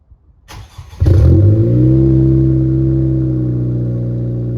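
A 10th gen Honda Civic Si with a turbo and loud aftermarket exhaust cranks and fires up, then settles into a deep, steady, loud exhaust drone close by.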